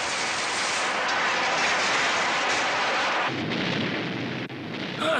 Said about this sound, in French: Démon Noir vient d'exploser!